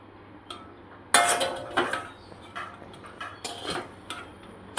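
Metal clinks and scraping of a utensil against a kadai as food is lifted out in a home kitchen, several sharp irregular knocks close by with quieter gaps between them.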